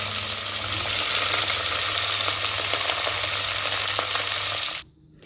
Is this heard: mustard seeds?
yes